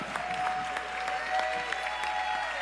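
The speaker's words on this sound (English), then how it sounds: "round of applause for our entire panel" An audience at a church morning prayer gathering applauds a panel, a short burst of steady, moderately distant clapping from many hands.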